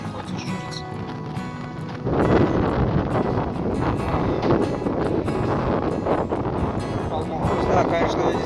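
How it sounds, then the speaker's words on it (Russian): Strong, constant wind blows across a dry, dusty roadside in Colombia, buffeting the microphone with a loud, steady roar that jumps in strength after a couple of seconds and holds, rough and unbroken. "Сейчас вот ветрище здесь постоянный, ветер поднимает пыль"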